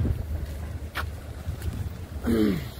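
Wind rushes steadily across the microphone outdoors in a low, rumbling gust, with a brief higher whoosh near the end.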